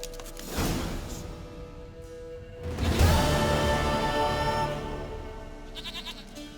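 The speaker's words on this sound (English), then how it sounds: "Goat of mine, dearest, sweetest goat." A goat bleats in The Witcher 3, with two separate cries a couple of seconds apart. The second is longer and louder, over a steady game background hum.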